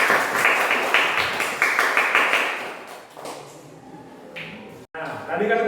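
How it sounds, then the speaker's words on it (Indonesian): Schoolchildren in a fifth-grade classroom applauding, a burst of rapid clapping from many hands that fades after about three seconds into quieter room noise and talk. "Ya, tepuk tangan sekali lagi."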